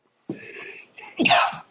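A single person sneezes close by during an interview, with a short intake of breath just before a sharp, forceful burst.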